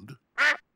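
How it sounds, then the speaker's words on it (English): A cartoon duck sitting on a pig's head after a fall into a pond gives two short, nasal quacks separated by a pause, close and clear with no talk. "Daddy Pig, did you know you've got a duck on your head?"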